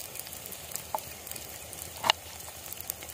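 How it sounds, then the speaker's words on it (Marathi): Chili and onion sautéing in a pan, a soft steady frying sizzle with scattered small pops and a couple of sharper crackles or utensil clicks, quiet and close. "मिरची आणि कांदा चांगला परतून घेऊ इकडे तोपर्यंत"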